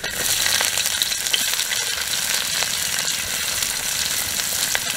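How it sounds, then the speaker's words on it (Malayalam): Ginger and garlic fry in hot oil for a fish masala curry, giving a steady, dense sizzle that stays near and loud throughout, with occasional faint crackles and stirring scrapes. "എണ്ണ നല്ലതുപോലെ ചൂടായിട്ടുണ്ട്. നമുക്കിനി ഇഞ്ചിയും വെളുത്തുള്ളി ഇട്ട് കൊടുക്കാം."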